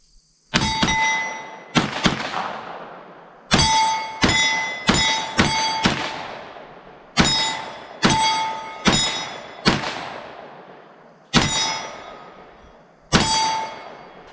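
A Ruger PC Carbine fires about a dozen shots at a steel target, each hit a sharp metallic clang with a ringing tone, in an uneven rhythm, loud and clear with no talking.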